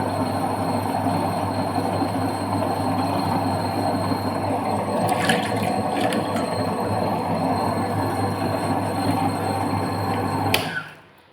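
A tabletop wet grinder churns soaked rice and urad dal into idli batter, a steady low droning hum with rumbling grind and occasional clinks, stopping abruptly near the end.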